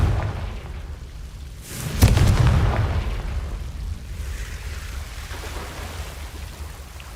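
Confringo fire spell blasting in Hogwarts Legacy, a sudden booming explosion that flares loud, then a crackling, rumbling tail that slowly fades over several seconds.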